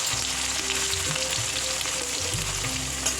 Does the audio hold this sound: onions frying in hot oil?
yes